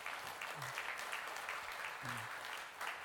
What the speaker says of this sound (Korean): 우리 학생들에게 감사와 격려의 박수 부탁드립니다.